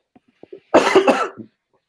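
One close, throaty cough from someone with a summer cold, with a couple of small breaths or clicks around it, otherwise quiet, during a business meeting.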